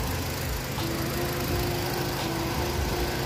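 A 4-cylinder 1200 cc car engine runs at a steady idle, heard up close as an even, continuous hum and rumble with no one talking.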